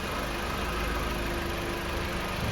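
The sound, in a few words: Jeep Patriot engine running in drive with brake held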